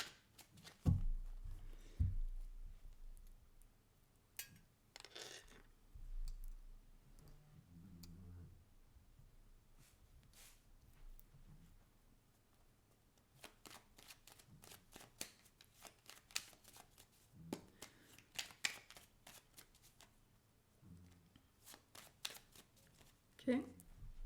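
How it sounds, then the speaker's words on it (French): Deck of cartomancy cards being cut and shuffled, soft riffling and clicking bursts scattered through the stretch, faint and close with low background noise. "on va essayer de couper le jeu en deux"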